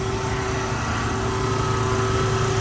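A PACCAR diesel engine on a McNeilus concrete mixer truck runs steadily nearby, a loud continuous drone with a firm rhythmic low-end chug and no pauses.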